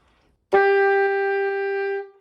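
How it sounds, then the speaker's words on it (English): A single sustained E on an alto saxophone, sounded alone, starting sharply and holding steady for about one and a half seconds before fading, with faint key clicks partway through. "The first note, the note that you always come back to, is E. It sounds like this."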